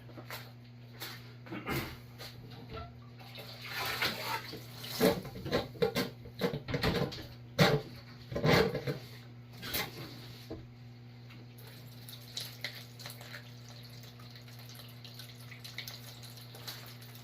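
Water from a reef aquarium runs through a siphon during tank cleaning, gurgling and splashing irregularly at low volume over a steady background hum.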